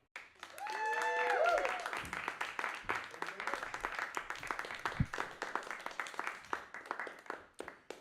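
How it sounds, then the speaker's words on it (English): Applause and cheering from a comedy club audience at a geek-themed stand-up show after the improv host is introduced, building quickly into dense clapping with a few whoops, then thinning out. "Big round of applause for Mark Sulfite."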